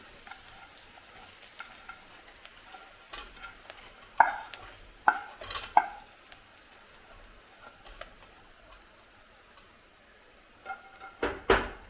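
Fried chicken and coconut are stirred in a pan, with a soft steady sizzle under a few sharp scrapes and clinks of a utensil against the metal, close but fairly quiet, with no talking.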